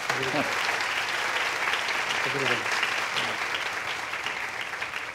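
Dense, sustained audience applause at a cultural event with an interview and dance show, a loud steady wash of clapping with brief voices underneath.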